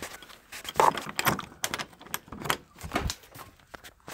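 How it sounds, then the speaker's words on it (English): A door in an apartment building is pushed open to the left, with a series of clunks, rattles and scraping knocks spread over a few seconds. "I gotta push the whole door to the left."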